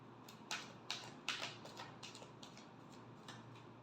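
Tarot cards are shuffled in a quiet room, giving a series of faint, quick riffling clicks and flicks in uneven bursts that taper off toward the end.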